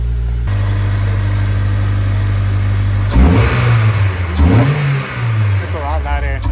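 A Honda S2000 fitted with a CompTech intake idles steadily, then its engine is revved several times, climbing and falling in pitch close by, with voices speaking over it.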